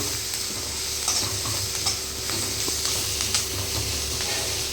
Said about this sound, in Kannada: ಇದಕ್ಕೆ ಕೊತ್ತಂಬರಿ ಆ್ಯಡ್ ಮಾಡ್ಕೊಳತ್ತೀನಿ, ಅದು ಹುರ್ಕೋತೀನಿ